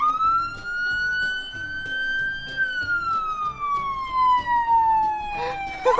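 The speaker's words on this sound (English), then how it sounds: "Yeah, that's the siren." A police car siren wails in a slow rising and falling sweep, loud and close, with talking and chatter mixed in underneath.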